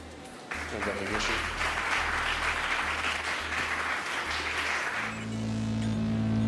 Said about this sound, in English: that clapping that you can hear in the background signifies that we did have successful SECO-2, second engine cutoff